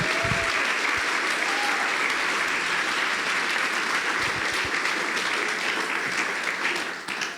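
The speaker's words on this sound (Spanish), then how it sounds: "dale un fuerte aplauso al Señor" A church congregation gives loud, sustained applause during a worship service, a dense steady wash of clapping that holds for several seconds before tapering at the very end.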